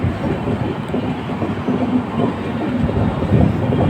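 A train rumbles and clatters past close by in Andhra Pradesh, India, a steady heavy roar with no voices.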